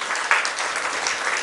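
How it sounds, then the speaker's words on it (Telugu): A church congregation claps to praise God, a dense, continuous applause that sounds fairly close and holds at an even level for a moment, with no voices over it. "చప్పట్లు కొట్టి దేవుని స్తుతిద్దాం."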